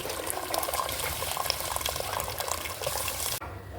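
Water bubbles and seethes in a steady rolling boil in a pot before rice is added, close and continuous, then cuts off abruptly just before the end.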